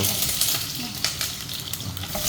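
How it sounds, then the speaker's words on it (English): Garlic and onion stir-fry in a pan in a loud, continuous sizzle, with a few sharp scraping and clinking stirs breaking through over a couple of seconds. "Stir fry"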